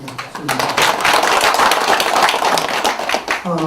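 Loud, close applause from an audience at a Korean language-preservation forum on the Hunminjeongeum Sangju manuscript, a burst of brisk clapping that fills the space, with a voice starting briefly at the close.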